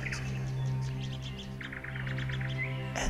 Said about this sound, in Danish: Du kan høre fuglene omkring dig synge